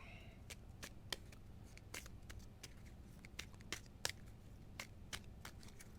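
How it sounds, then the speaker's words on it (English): A deck of game cards for a tabletop Aliens campaign being shuffled, giving a run of quick, close riffling snaps and crisp card flicks spaced irregularly over a soft background hum. "I basically take all these cards, shuffle them up, and that's my new endurance deck"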